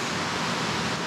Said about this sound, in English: we've got another waterfall up there